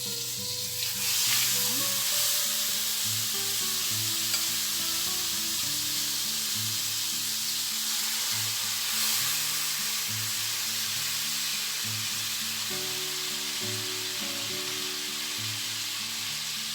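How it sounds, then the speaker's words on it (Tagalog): Marinated pork frying in a pan, a loud continuous hissing sizzle close up, with faint background tones and occasional spatter, no talking. "ipiprito lang natin siya hanggang sa mag-golden brown yung both sides ng ating pork"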